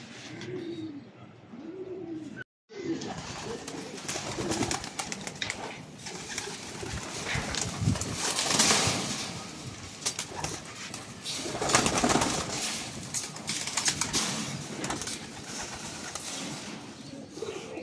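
Racing pigeons coo in soft, repeated throaty calls, with several birds overlapping nearby amid rustling and fluttering noise, continuing throughout.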